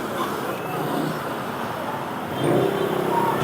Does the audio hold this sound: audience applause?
no